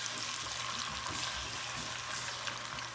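Peppers fry in a pan with a steady, close broadband sizzle and light crackle that runs continuously, no voices over it.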